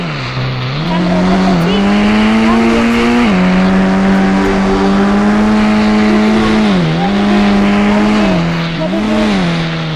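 Car engine revving and accelerating in an Indian bike video game, a loud continuous motor drone whose pitch rises and dips with each throttle change, steady throughout.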